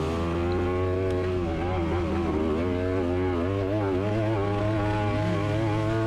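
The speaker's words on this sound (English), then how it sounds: "And I hear somebody coming up on me revving the engine." A cross-country motorcycle engine revs steadily at close range, its pitch rising and falling as the rider works the throttle on the trail.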